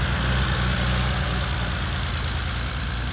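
A BMW 335Xi engine idling, a close, steady low rumble with even pulsing and no voices.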